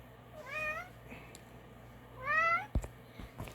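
A cat meows twice, short rising cries a second or so apart, close and fairly quiet in a calm room, with a few soft knocks after.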